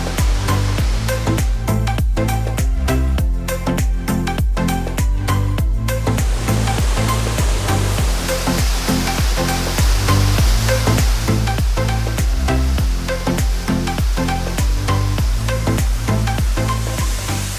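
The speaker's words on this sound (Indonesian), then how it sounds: "Ketika menuju air terjun, deru hempasan air menggema sampai ke telinga" A waterfall near Lake Toba in Indonesia crashing onto large boulders, giving a loud, dense, continuous roar of water that stays steady throughout.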